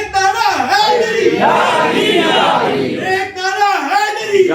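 A large crowd at a devotional gathering roars its answer to the Nara-e-Haidri slogan: loud, sustained massed shouting that swells and holds for several seconds, dips briefly, then surges again.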